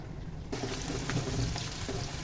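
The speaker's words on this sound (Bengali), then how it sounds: "এই পেঁয়াজটা একটু নরম হওয়া পর্যন্ত খুব ভালোভাবে ভেজে নিতে হবে চুলার আর তাপটা মিডিয়াম টু লো ফ্লেমে রেখে খুব ভালোভাবে ভেজে নেব" Onions frying over medium to low flame, a steady close sizzle that starts abruptly after a short quiet moment and holds evenly, with faint stirring.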